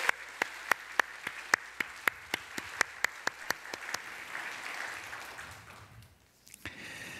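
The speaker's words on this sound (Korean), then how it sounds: "우리 중고등부 학생들 위해서 우리가 한번 다 같이 한번 박수 한번 칩시다" A church congregation at a Korean Sunday morning service applauding its middle and high school students: a wash of clapping with crisp, regularly spaced claps that gradually fade and die away.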